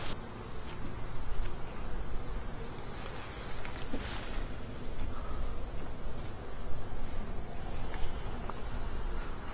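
A dense, steady buzzing of many honey bees on a hive frame fills the air without pause, close and continuous over a constant hiss.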